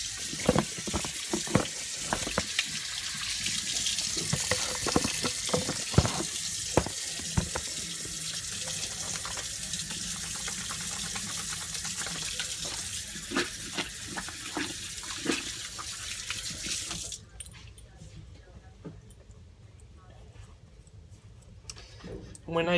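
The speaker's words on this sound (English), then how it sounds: "let me go wash my hands" Water runs from a sink tap while hands are washed, a loud, close, steady splashing gush that cuts off near the end, leaving a quieter room.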